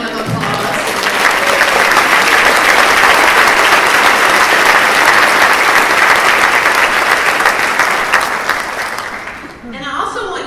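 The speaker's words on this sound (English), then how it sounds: "I want you all to give them a big round of applause" Banquet audience breaking into a big round of applause, dense sustained clapping from a large crowd that fades near the end before a voice returns.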